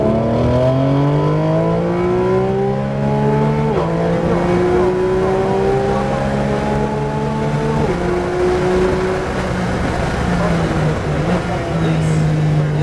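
A Porsche GT3 at full throttle down the straightaway at Homestead, Florida. The engine note climbs steadily through several upshifts, each followed by a fresh rising pull, loud and close, with a voice talking over it.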